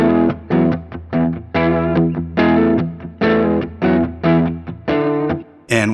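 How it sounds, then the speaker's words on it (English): A clean electric guitar through a stock Logic amp simulator plays a chopped, rhythmic riff of short chord bursts separated by brief gaps, loud and close, with no voices. "Now I have a clean stock Logic amp simulator running."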